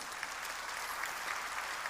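A church congregation claps together during a Korean sermon, a steady, faint wash of many hands that runs unbroken for a couple of seconds.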